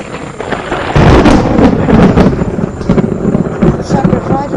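Rolling thunder from a lightning storm, a heavy low rumble that swells about a second in and keeps grumbling and cracking for several seconds, loud and fairly close.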